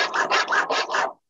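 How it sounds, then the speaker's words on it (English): Big coarse-toothed metal file rasps over a sprue nub on a sand-cast ring, five quick scraping strokes in a steady back-and-forth rhythm, close and loud, then stops. "Using my big toothy file, let's go over the outside of that sprue."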